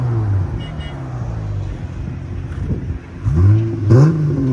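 A Dodge Challenger SXT/GT with a 3.6L V6 and an aftermarket exhaust revs up and falls back, then gives two sharp, loud blips near the end, heard up close over a steady idle rumble.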